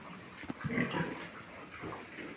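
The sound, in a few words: pigs at feeding time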